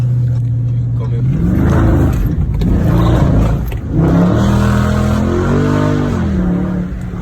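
Car exhaust with a mid muffler delete, engine revving up and down in repeated loud climbs and drops with a raspy, throaty tone, heard close through an open window.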